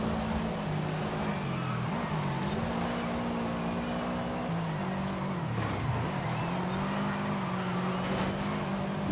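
A racing Audi's engine drones continuously in Forza Horizon 5 open racing, its pitch rising and dipping as it shifts gears and races against other cars, with a steady roar throughout.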